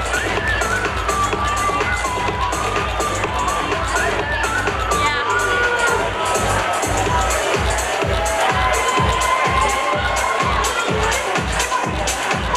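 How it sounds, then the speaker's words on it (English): A high school graduation fashion show audience, a loud, dense crowd roar of cheering and shouting that carries on throughout, with a rhythmic thumping beat rising underneath in the later seconds. "Give a nice round of applause for these girls."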